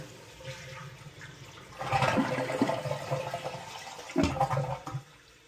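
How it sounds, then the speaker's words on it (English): A toilet flushes nearby to relieve water pressure during a seal repair, with a rushing gurgle of water, a second surge following, then draining away. "Now we will flush the toilet to relieve the pressure."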